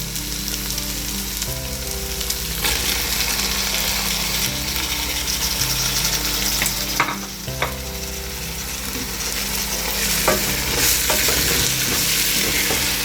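Spice powders and tomatoes frying with onions in a pan for chicken biryani, a continuous loud sizzle broken by scraping, rattling strokes of a spoon stirring the mixture, with no talking.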